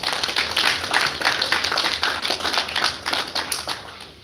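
A modest group applauds a team at a live event in Jamaica, individual claps clearly audible in an uneven, moderately loud patter that tapers off toward the end.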